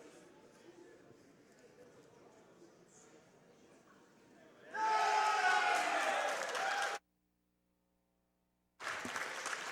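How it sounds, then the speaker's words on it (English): Crowd at a speedrun marathon event cheering and applauding in a loud, dense burst that cuts off abruptly and then briefly resumes, following a stretch of quieter background sound. "you guys hear the cheering"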